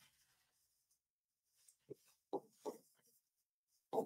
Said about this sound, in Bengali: আবার লিখলাম